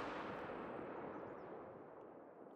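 A rifle gunshot in the hunting video game Call of the Wild, fired at an alligator in Mississippi, heard as a broad booming report with a long rumbling decay that fades over a couple of seconds.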